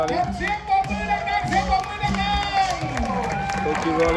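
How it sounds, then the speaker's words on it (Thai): A crowd at a Muay Thai event claps and cheers, hand claps rising in bursts over a noisy babble while an announcer's voice talks over the applause. "เสียงปรบมือดังๆเสียงปรบมือดั"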